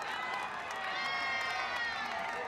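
A crowd at the finish of a women's mountain race cheers and shouts in a sustained wash of voices, with a commentator talking over it.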